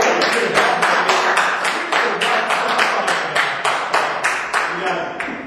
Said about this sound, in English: Can I get a little round of applause?